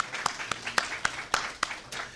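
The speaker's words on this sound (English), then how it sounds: "If we could give her a round of applause" Scattered audience clapping at a school district Wall of Fame induction ceremony, sharp individual hand claps in an uneven rhythm against a soft room murmur, moderately faint and far.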